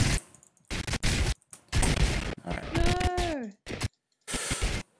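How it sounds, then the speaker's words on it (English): Bursts of loud, choppy gunfire-like blasts from Fortnite, separated by short silences, with a voice heard speaking briefly amid the noise. "I'm probably just gonna run away because I hear like gunfire."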